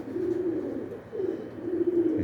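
A bird coos in low, soft, repeated phrases with a brief pause in the middle, fairly close, over a steady background hum.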